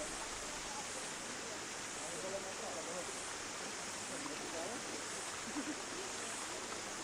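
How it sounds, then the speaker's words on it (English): Kakahi Falls, a hot waterfall in the Rotorua thermal springs, gives a steady, moderately quiet broadband rush of falling water that continues without a break, with no voices over it. "It is the only hot waterfall in the southern hemisphere."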